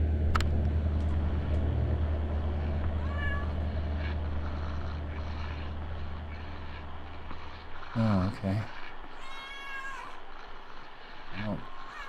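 A cat meows in the video game Kentucky Route Zero, several short mews rising over a steady low engine-like rumble, with someone briefly speaking.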